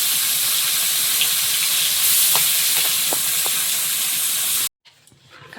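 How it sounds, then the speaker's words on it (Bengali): Snakehead fish frying in a pan gives a loud, steady close sizzle and hiss with a few faint clinks, then cuts off abruptly to near quiet. "এখানে শোল মাছ ভাজা হচ্ছে"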